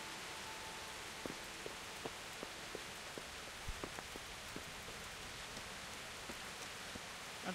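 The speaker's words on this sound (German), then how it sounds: "Klar, dass es regnet." Steady rain in the video game Kingdom Come: Deliverance hisses over a surface, with scattered individual drops tapping through it, soft and continuous.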